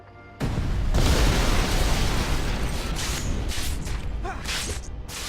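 A bomb goes off in the Spider-Man 3 PC game, a loud sudden boom that swells into a sustained roaring, rumbling blast with debris and whooshing swirls trailing for several seconds.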